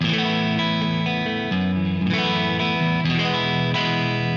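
A distorted electric guitar plays sustained, chorused chords through a Jensen Tornado speaker cabinet, loud and steady with no voices.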